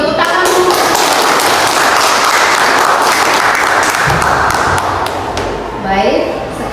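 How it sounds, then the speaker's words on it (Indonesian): Students in a classroom clap together in loud, dense applause lasting several seconds, with voices audible beneath it near the end. "Tepuk tangan, Bu."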